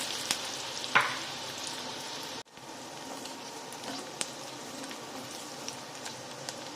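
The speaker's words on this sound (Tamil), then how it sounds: "வெங்காயம் நல்லா பொன்னிறமாக வதங்கி வரட்டும்" Steady crackling sizzle of onions frying in a pan, with a few sharp stirring clinks and a brief dropout midway; no talking.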